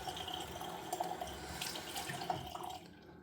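Water runs steadily from a bathroom tap into a sink during a wet shave with a Gillette Tech safety razor, a continuous close splashing stream with small drips that cuts off near the end.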